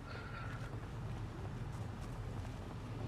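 A car engine idling steadily in the zombie survival game Project Zomboid, a low continuous rumble with a faint whooshing hiss over it, alone and without talk.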